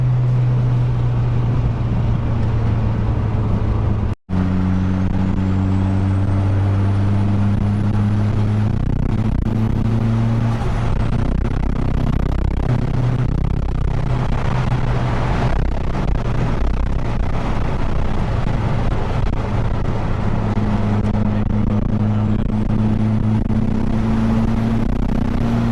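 Car engine pulling hard under acceleration, a steady loud low drone with rising tones and constant wind and road rush throughout, briefly cut off near the start.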